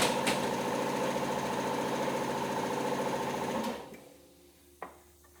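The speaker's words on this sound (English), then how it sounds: "While that compressor's running" An air compressor chugs steadily in a workshop at a rapid, even beat, then cuts off abruptly, leaving near silence broken by a single short clunk.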